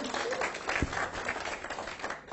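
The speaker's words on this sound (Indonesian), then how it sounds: "aplaus untuk Anda semua Bapak Ibu" Seminar audience applauding, a dense wash of clapping from a crowd in a hall, moderately loud and sustained through the brief moment with faint voices mixed in.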